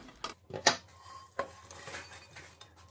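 Dried anchovies being stir-fried in a pan, heard as a few sharp clinks and scrapes of a utensil against the metal pan, sparse and fairly quiet, no talking.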